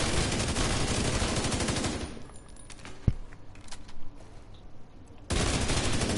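Rapid automatic weapon fire in the video game The Division 2 arrives as dense, loud bursts, then a quieter stretch with scattered clicks and single pops before the sustained firing resumes.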